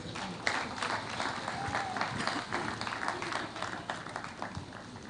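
Audience applause from a crowd gathered at a national campaign event on child marriage and teenage pregnancy, steady and dense clapping throughout, moderately loud and sustained without pause.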